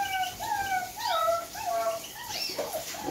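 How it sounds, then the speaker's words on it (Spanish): Two-and-a-half-month-old puppies whimper and cry in a string of high, wavering whines and yelps that overlap and rise and fall, fairly close and without talk. "Como perrito chiquitito, tienen 2 meses y medio, casi 3, y se llevan todo el día llorando"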